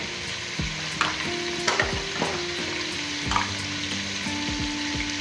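Spiced potato mixture with chili, coriander, turmeric and salt stirred in a pan, a steady sizzle under repeated scraping and clinking strokes of a spoon against metal, close and moderately loud.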